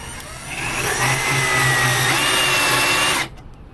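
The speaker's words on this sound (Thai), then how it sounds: "ขันสกรูได้ง่ายได้นะครับ" BONCHI 28V two-mode cordless drill driving a screw into wood, a close, loud steady whir for nearly three seconds that stops abruptly, with no talking.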